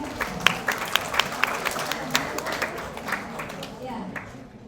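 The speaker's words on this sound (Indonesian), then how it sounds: "Tepuk tangan." Scattered hand claps at a medical radiology lecture, a modest irregular patter of applause that thins out toward the end.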